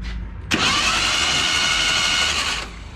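A junkyard 1977 Datsun 710 wagon's engine cranks over on the starter, a sudden loud, steady whirring churn that begins after a brief quiet and runs for about two seconds before cutting off.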